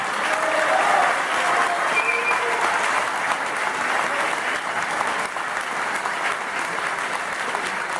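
Sustained, loud applause from a large crowd at a political rally in Mar del Plata, a thick continuous wash of clapping with a faint murmur of voices underneath.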